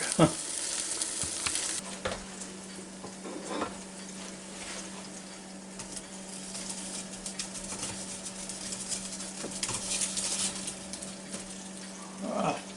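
Pork chops fry in a Ninja Foodi Deluxe with a steady, close crackling sizzle and light spattering that runs throughout, plus occasional clinks of a utensil against the pot.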